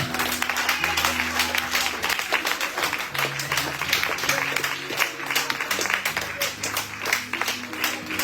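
A church congregation applauds and cheers for God, dense sustained clapping from a crowd with voices calling out over it and a low musical hum beneath.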